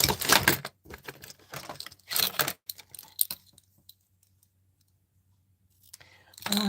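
Ribbon scissors trim paper closely for Christmas card making, giving a few short bursts of crisp snipping and clicking separated by near silence, and someone talks between the cuts.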